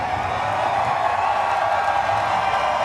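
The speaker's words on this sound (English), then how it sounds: "The crowd roars for the most popular driver" A crowd roars at a NASCAR Cup Series race on a concrete oval, a dense, steady wash of cheering and noise that holds loud and unbroken throughout.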